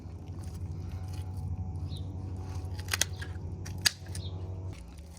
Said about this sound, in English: Now, I'm gonna cut off the lips.